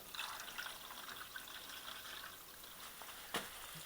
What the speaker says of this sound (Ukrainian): треба залити от сюди воду, і вона, по ідеї, має все витекти ось тут з цього е, доступу до фільтра